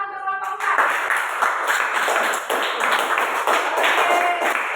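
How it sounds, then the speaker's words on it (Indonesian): A classroom of students applauds a presenting group, a dense, close burst of many hands clapping steadily for several seconds while voices chatter underneath. "Kita kasih tepuk tangan untuk kelompok 4."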